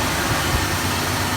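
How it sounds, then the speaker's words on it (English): A Chevelle engine running steadily and fairly quietly, a low, even idle-like rumble under broadband noise with no talking. "the engine's a lot quieter"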